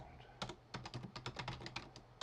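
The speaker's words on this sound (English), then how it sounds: "Sorry, stupid keyboard." Rapid typing on a computer keyboard, a close run of quick, uneven key clicks without speech.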